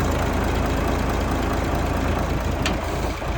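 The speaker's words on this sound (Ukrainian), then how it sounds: "Двигун працює відмінно" A DAF CF460 truck's diesel engine idles steadily close by, a constant low rumbling drone with no talk over it.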